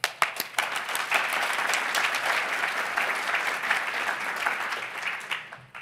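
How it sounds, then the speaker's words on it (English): A room of attendees at a PyData London lightning talk breaks into sustained applause, crisp individual claps audible at the start before merging into a dense, steady wash that tapers off near the end. "Big clap."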